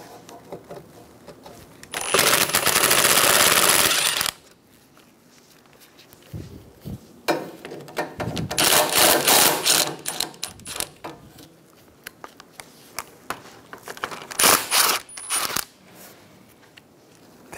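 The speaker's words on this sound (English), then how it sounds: "Remove the 3 8mm bolts for the condenser." Three 8mm bolts come off the AC condenser of a Chevrolet Sonic, with bursts of ratchet or power-tool whirring, some ticking and clicks, and quiet pauses between the loud close-up runs.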